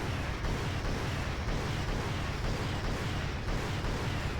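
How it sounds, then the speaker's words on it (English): Rocket artillery in the war game Wargame AirLand Battle launching its missiles, a dense continuous rumble of rapid-fire launches and blasts, loud and steady with no pauses. "Rocket artillery is pretty much unchanged. It will target, it will fire, it will launch all of its missiles, and then it will stop."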